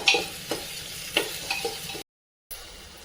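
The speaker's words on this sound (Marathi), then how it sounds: "व्यवस्थित परतून घेऊया चवीनुसार मीठ टाकूया" Vegetables sautéing in a pan for tomato rice, soft sizzling with a handful of quick spatula scrapes and stirs, close by, cutting to a brief silence before the frying resumes.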